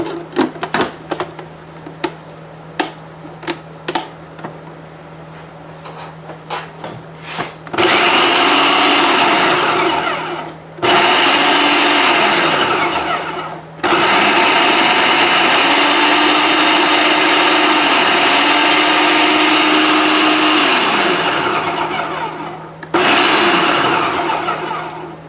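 Blender grinding freeze-dried raw eggs into powder: a few light clicks and taps, then loud, close motor roars in several bursts with brief pauses, the pitch dipping and rising as the load shifts.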